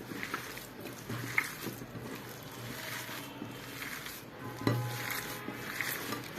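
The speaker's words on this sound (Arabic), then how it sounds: "واحط كل التوابل اللي انا مجهزاها وهدمج كله مع بعض، اخلطه كده جامد" Minced meat kneaded by hand with onion and spices for kofta, producing soft squishing, slapping and occasional bowl knocks in an uneven rhythm, close but quiet, with no speech over it.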